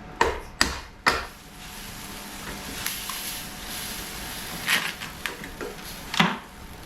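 A hammer chips debris out of a Honda engine block in a garage, striking in a few sharp metallic knocks, some close together and others spaced apart, with quieter scraping and handling sounds in the gaps.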